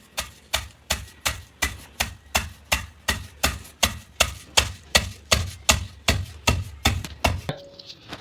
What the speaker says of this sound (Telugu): ఈ మసాలా వేయించుకుని అన్నీ వేసుకోవాలి. అట్లే దీనికి తోడుగా సాసాలు కూడా వేసుకోవాలి. బాగా నున్నగా కొట్టుకోవాలి.